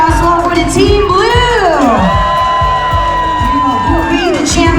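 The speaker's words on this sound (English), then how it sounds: "How about let's cheer it as well for the Team Blue!" Packed atrium crowd aboard the Norwegian Encore cruise ship yelling and whooping for Team Blue, dense continuous cheering with high shrieks sweeping up and down over a rhythmic pulse of clapping.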